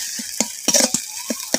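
A ground paste of garlic, onion, green chilli and fried chilli sizzles in a pan for a potato and tomato vorta. A spatula stirs it with several quick scraping strokes over a steady frying hiss, close and clear.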